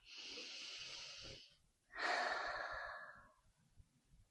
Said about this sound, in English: So take a breath with me.